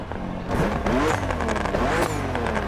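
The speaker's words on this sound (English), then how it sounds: "That exhaust, that turbo setup's crazy." A BMW M2 CS in The Crew Motorfest revs hard, its turbocharged engine rising and falling in pitch through several loud, close pulls with crackling exhaust.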